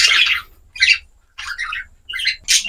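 Harsh parakeet squawks and chirps come in five short bursts with brief gaps between them. They sound close and fairly loud.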